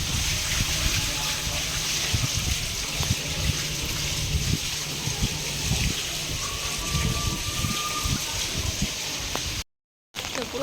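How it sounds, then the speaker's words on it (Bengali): Floodwater pouring down a staircase from a flooded rooftop in Hyderabad, a steady rushing gush with trickling splashes, continuous and fairly close, cut by a brief dropout near the end. "সিঁড়ি দিয়ে কেমন জল নামছে।"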